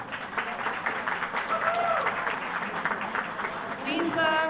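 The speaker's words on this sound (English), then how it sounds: "a round of applause." Audience clapping for a named honoree at an alderman's election victory celebration in the 11th Ward, a steady crowd applause sustained throughout with cheering voices and talk mixed in.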